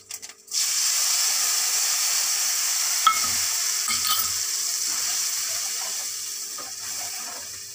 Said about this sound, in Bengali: একটু ভেজে নেব এটা।